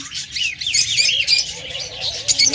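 Red-beaked Fischer's lovebirds chirping in a close, rapid series of sharp high tweets and short squeaky calls, busy and continuous with no voices.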